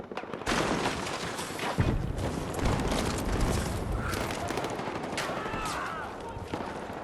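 Battlefield 6 game gunfire crackles as dense, continuous shots and booms that fill the whole stretch at a fairly loud, steady level.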